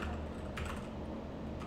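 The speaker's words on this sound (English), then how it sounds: "You can type in the email." Quiet, quick clicking of keys on a computer keyboard as an email address is typed, a few light taps in short bursts over a low steady background hum.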